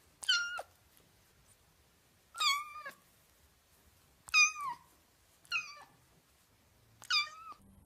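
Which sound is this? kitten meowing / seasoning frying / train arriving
kitten meowing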